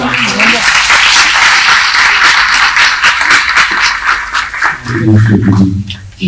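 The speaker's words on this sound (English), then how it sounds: "I think it deserves a big round of applause over again." Loud, dense applause from a summit audience fills the space for several seconds, a continuous roar of many hands that fades toward the end as a voice resumes speaking.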